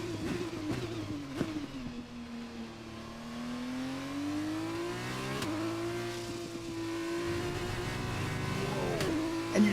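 F1 2021 race car engine in the video game, a loud continuous high-pitched whine that sweeps up and down with throttle, climbing steadily with occasional gear-shift dips, alone without talk.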